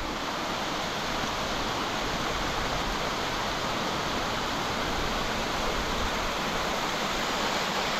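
Waterfall at Bedse in Maval, Maharashtra, roaring as a dense, steady broadband rush of falling water, close and loud, unbroken for the whole stretch with no voices.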